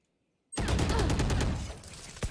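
Sustained rapid gunfire in a video game starts abruptly after half a second of silence, a loud continuous burst of automatic shots that tapers slightly before a final sharp crack.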